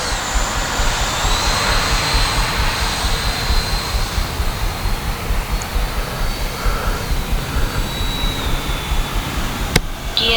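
A Freewing F-86 80mm electric ducted-fan RC jet model in flight, a loud steady turbine-like whine and roar holding level throughout with a faint shift as it passes.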